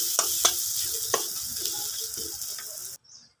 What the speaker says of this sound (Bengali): পেঁয়াজটা একটু হালকা নেড়ে করে ভেজে নেব